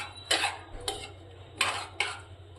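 Sev is stirred into tomato curry in a pan: four short, distinct scraping clinks of a spoon against metal, spaced unevenly over a quiet background.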